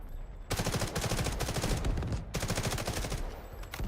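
Sustained bursts of rapid automatic gunfire from the Delta Force video game, loud and dense with a brief pause midway before the firing resumes, with no talking.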